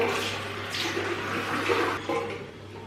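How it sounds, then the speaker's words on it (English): Lukewarm water splashes and runs as a face is rinsed, a close, continuous watery wash with a few sharper splashes and no talking. "Then rinse my face with lukewarm water."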